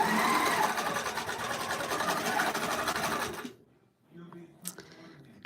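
A quilting machine stitches big swirl flower designs into a slick minky baby quilt, giving a fast, steady mechanical whir of rapid stitching for about three and a half seconds before it stops, leaving faint handling sounds.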